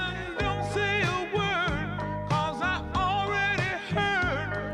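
A sample of a song plays alone, a dense mix of vocals and instruments with a steady rhythmic pulse, moderately loud and without anyone talking over it.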